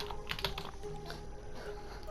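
Someone types a command on a computer keyboard, producing a quick, quiet run of close key clicks with no talking.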